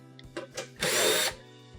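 A power drill backs 1/4-inch screws out of a Whirlpool stove's top panel. Two short quiet blips come first, then one loud, close whirring burst of about half a second.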